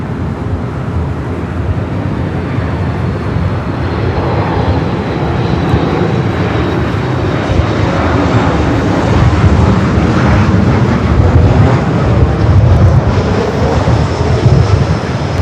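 A loud, continuous broadband roar of a Delta airliner landing on runway 24 right at LAX, heard steadily throughout with engine and airflow rumble and no talking.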